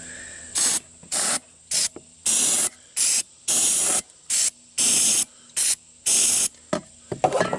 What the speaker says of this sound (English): So this is the air box, perfect for mice. I'm going to spray it